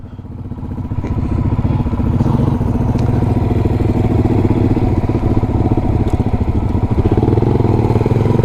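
A motorcycle rides along a road near a dam, its engine a loud, close, chugging drone that carries on steadily as it shifts up a gear, with faint clatter and thumps mixed in.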